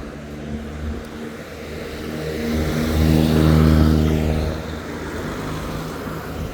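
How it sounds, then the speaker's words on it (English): Street traffic on a town dog walk, a car engine rumbling past at close range and swelling louder in the middle before easing off, over a steady background hum of road noise. "This is why I don't like street walks, because of the noise of traffic."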